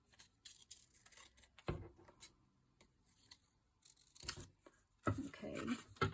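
Scissors snip through a tiny pressed flower during a craft session, with several close, crisp cuts and rustling scrapes of paper spread over a few seconds, quiet and with no talking.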